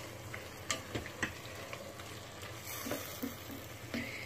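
Meat sauce with a can of crushed tomatoes for lasagna is stirred in a pot, quiet wet scraping and a few soft ticks of the spoon over a faint simmering bubble, close but low in level.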